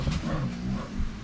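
Muffled, somewhat distant barking and whining from a household dog in a home kitchen, heard alone over a dull background hum with no talking.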